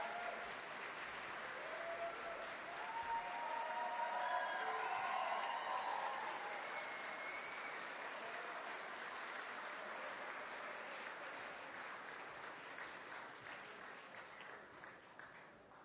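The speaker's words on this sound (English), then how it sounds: "another round of applause for our exceptionally talented musical guests" A large crowd at the Golden Joystick Awards applauds steadily, sustained clapping with a few cheers, swelling slightly then gradually fading.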